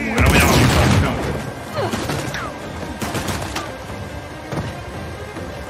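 Gunfire from the video game Uncharted: The Lost Legacy comes as a loud opening burst of rapid shots, followed by scattered sharp cracks and booms at irregular intervals. It is dense, close combat noise with no clear speech.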